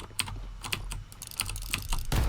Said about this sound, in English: you can hear him spam clicking his mouse